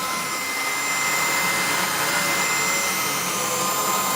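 A Shark cordless vacuum cleaner runs on carpet at maximum power, a loud, steady, close-up whooshing roar with a high-pitched whine that holds unbroken throughout.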